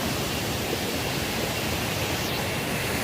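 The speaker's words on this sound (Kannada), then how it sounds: "ಇದೇ ನಮ್ಮ ಸೀಕ್ರೆಟ್ ವಾಟರ್ ಫಾಲ್ಸ್." A secret waterfall in Coorg pours over slippery rocks, a dense, steady roar of rushing water that fills the scene evenly from start to finish, close and loud with no voices.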